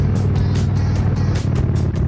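An air-cooled Indian Springfield motorcycle fitted with Sharkroad exhausts runs loud and close, its deep rumble pulsing in quick rhythmic throbs throughout.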